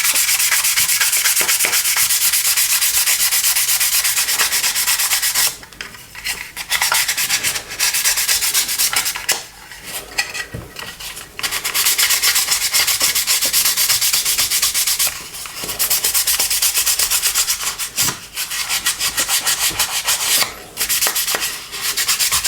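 Sanding pad rubbing over the parts of a plastic Airfix Handley Page Hampden model kit, a loud steady scratchy rasp that stops briefly several times before resuming in long strokes.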